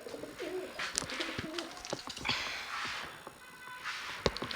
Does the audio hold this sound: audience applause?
no